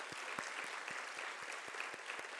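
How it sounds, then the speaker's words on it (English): Audience applause at a school graduation and achievement awards ceremony, a steady patter of many hands clapping at moderate distance, continuous for the whole stretch. "Can we give Kah Wing a round of applause?"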